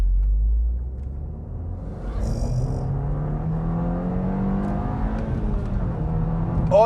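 A SEAT Leon Cupra Mk2 hatchback accelerates hard from low speed, its engine note climbing steadily through the revs with a loud, close rumble and whir, partly buffeted by wind.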